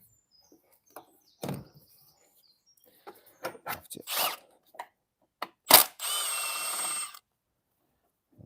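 A cordless impact gun removes bolts on a Ford Transit Custom during cam belt work, heard as scattered short clicks and bursts, then a sustained whirring run of about a second close by.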